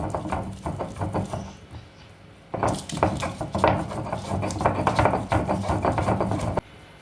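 Green chillies being coarsely ground on a stone slab for a chana dal puri filling, with steady rough scraping and rubbing strokes that pause briefly before resuming more loudly and densely.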